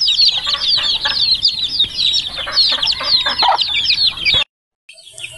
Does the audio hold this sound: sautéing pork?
no